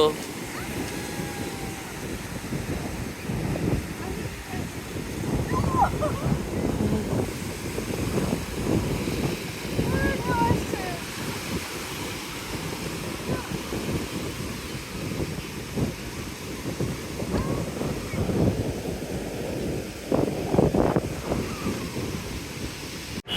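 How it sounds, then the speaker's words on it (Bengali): Sea waves at Cox's Bazar beach, Sugandha Beach, wash and surge in a steady roar mixed with wind buffeting the microphone, with muffled voices in the background. "সমুদ্র"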